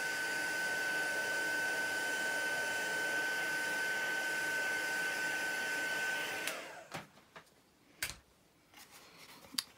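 A heat tool blows from underneath a stamped watercolour card. Its steady, close whirring hum runs for about six seconds, then cuts off, leaving a few light handling clicks.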